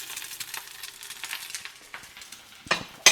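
An egg fries in a buttered pan with a soft, steady sizzle, then a lid comes off with a sudden clatter near the end.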